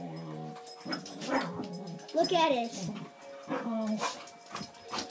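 Dogs nearby bark, yip and whimper in bursts while a person talks over them.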